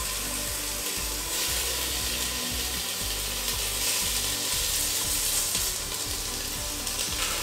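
Meatballs frying in a pan for lasagne, a loud continuous sizzle with rhythmic low thumps and scrapes as they are moved around.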